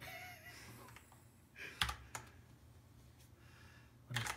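Keys pressed on an Azio Armato mechanical keyboard give a few scattered, sharp clicks at close range, with a quiet gap between the taps and a final clack at the end.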